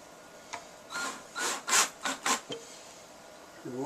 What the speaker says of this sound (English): I'm sticking two screws in there